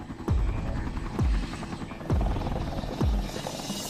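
Helicopter rotor throbbing in steady heavy beats, about one per second, a loud continuous engine hum running beneath the repeating thumps.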